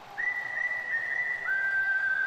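A long, steady two-note whistle from a crowd member at a Cardinals vs. Diamondbacks baseball game after a strikeout, a held high tone that steps down slightly midway, over faint crowd murmur.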